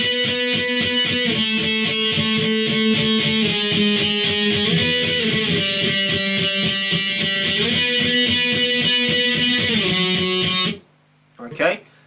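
Electric guitar playing the chorus, steady strummed chords in driving rhythm, loud and close, stopping near the end, followed by a brief sound.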